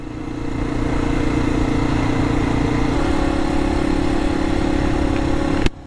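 A Yamaha TW200 motorcycle engine runs steadily at idle with a low, throbbing rumble, close by, then cuts off abruptly at the end.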